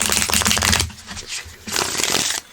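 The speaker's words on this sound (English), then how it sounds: "I love the way this shuffles" A dog-themed oracle card deck is riffled and bridged close up, giving two dense bursts of crisp flapping card noise separated by a short lull.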